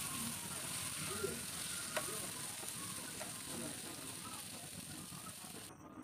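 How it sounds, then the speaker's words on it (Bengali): Steady sizzling of pointed gourd frying in a hot pan until slightly charred, a continuous crackling hiss with occasional small pops throughout. "এখন এটাকে ভেজে নিব, একটু পোড়া পোড়া ভাব করতে হবে।"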